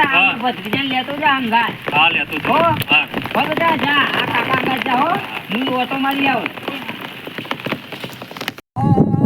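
Heavy rain hisses steadily in the background over a waterlogged farm field while a person talks almost continuously over it.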